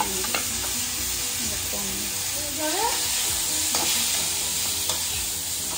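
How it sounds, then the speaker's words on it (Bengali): Eggplant and drumstick pieces frying for Bengali sukto, a steady loud sizzle in oil with occasional stirring scrapes, close and continuous without talk. "এটা ভালো করে ভাজতে হবে"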